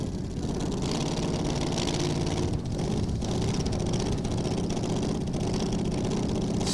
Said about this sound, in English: Still very serious machines, these, using that V8 Chevy power.